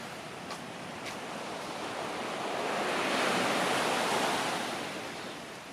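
Small ripple waves of ocean surf wash onto a beach in Puerto Vallarta, Mexico, a steady broadband rush that swells gently louder in the middle and eases off again, with no voices.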